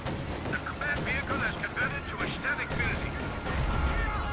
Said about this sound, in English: Artillery being called in by the Major here as well